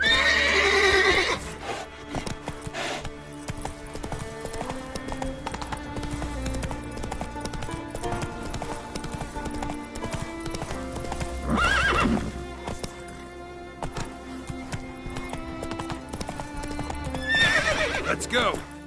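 A horse gallops in The Witcher 3 with rapid, steady clip-clop hoofbeats and loud whinnies near the start, middle and end, close and prominent under a short spoken line.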